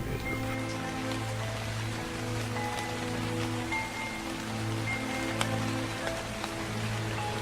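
Steady rain falls as a constant, even hiss that never lets up, with a low sustained drone running underneath and no voices.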